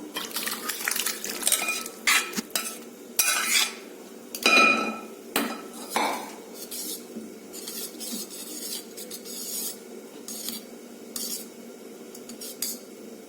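Metal spoon scrapes and clinks against a pot in irregular bursts as thick sambar of dal and vegetables is stirred, with quieter pauses between strokes.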